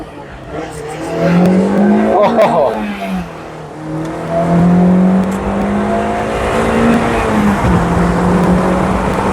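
Mazda Miata GT pulling away from a light, its engine rising in pitch through the gears at close range from inside the cabin, with a brief exclamation at the start.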